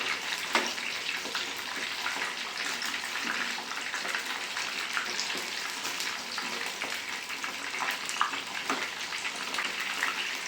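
Chicken kebab pieces frying in a pan, a steady, dense broadband sizzle with occasional louder pops and crackles, close and continuous throughout with no talking.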